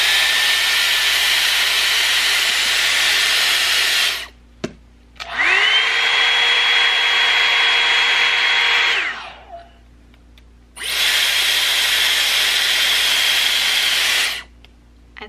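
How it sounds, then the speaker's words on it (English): Dyson Airwrap hair styler running on high switches on and off in three bursts, each a loud airy hiss with a smooth whining motor tone that rises as it spins up and falls away as it stops. "but then the Dyson on high sounds like this."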